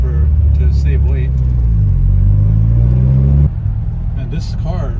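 A 30-year-old turbocharged Honda car is driven with a loud, rumbling engine drone that rises and falls in pitch, with someone talking over it throughout.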